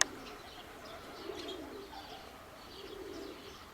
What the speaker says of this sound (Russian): Так, а те голуби вон, пожалуйста.